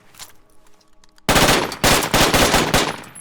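Suppressive machine gun fire in the military shooter game Project Reality, a loud, rapid burst of sustained automatic shots that starts abruptly after quieter faint sounds, with a short break and then more rattling fire.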